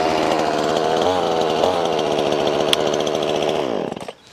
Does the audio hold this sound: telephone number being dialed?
no